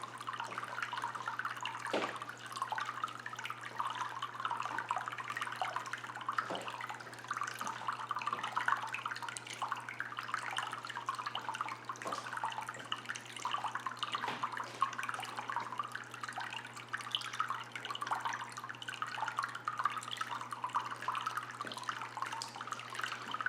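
Water pours and splashes from a Marineland Penguin Pro 275 power filter into an aquarium, a steady continuous trickling rush with small drips and splashes throughout, fairly close and even in level, with no voices.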